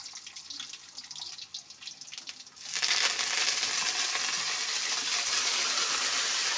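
Dried red chillies and curry leaves frying in hot oil for a puliyodharai tempering: a light crackle at first, then a sudden loud, dense sizzle that keeps hissing steadily up close.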